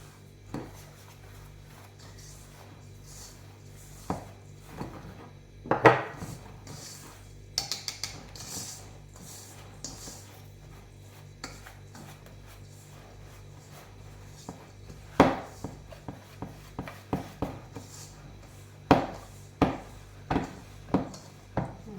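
Mini cheese harcha dough being mixed with oil in a bowl: sparse, irregular scrapes and light clinks, some in quick clusters, over a quiet kitchen background with no talking.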